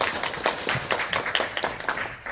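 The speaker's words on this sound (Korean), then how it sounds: "큰 박수 보내주십시오." A seminar audience in a hall claps for a professor about to present, a moderate stretch of distinct, irregular hand claps heard close and alone.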